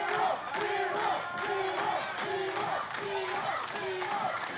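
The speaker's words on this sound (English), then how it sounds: "Kal's pals in the Davis Arena cheering him on" A wrestling crowd in the Davis Arena chanting and cheering in a rhythmic, repeating pattern, dense and roomy, with rhythmic clapping beneath the voices.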